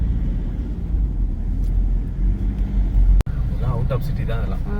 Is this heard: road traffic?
yes